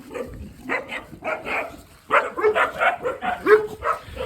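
Several dogs barking outdoors in southern France, a run of sharp repeated barks in two bursts separated by a brief pause, fairly close and loud, with no voices over them.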